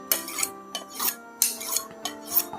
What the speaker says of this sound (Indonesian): Nah, seperti ini kita honing.